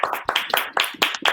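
Hand clapping from one person at an online comedy night, a run of about six sharp, close claps in an uneven rhythm, loud and alone with no talk.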